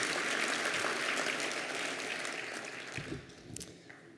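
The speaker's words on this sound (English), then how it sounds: "How about another round of applause for Jim?" Applause from an audience at a board chair's keynote ceremony, dense and steady before thinning out toward the end, with a few scattered claps near the close.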